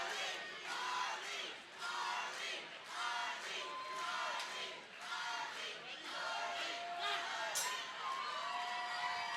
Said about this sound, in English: You can hear the crowd real loud right now in our ears